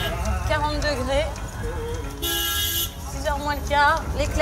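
Car horns honk repeatedly in busy Bombay street traffic at a quarter to six, several short toots and one longer blast standing out over a dense rumble of engines, with voices talking underneath.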